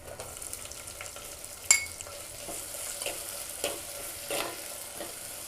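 Onions fry in a clay pot while a fish gravy is prepared, giving a soft, steady sizzle with occasional stirring scrapes and one sharp utensil knock early on, heard close and fairly quiet without talk.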